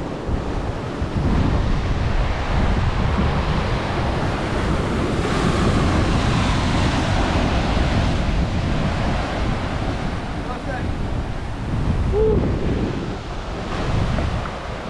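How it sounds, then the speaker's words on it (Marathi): Rough, churning sea waves crashing against the Vengurla rocks, a continuous loud roar of surf with wind buffeting the microphone throughout. "पण लाटा खूपच जास्त आहे"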